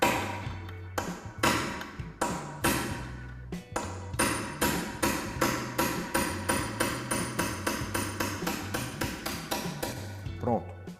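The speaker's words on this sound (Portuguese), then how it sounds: "a gente vai pegar um saca-pino com o martelo e vai sacar o pino elástico que trava essa roda dentada ao eixo" A hammer drives a pin punch to knock out the spring pin holding a sprocket to its shaft while an automatic gearbox is taken apart. Close, ringing metallic blows fall steadily, speeding into a fast rhythmic series, with a voice talking over them.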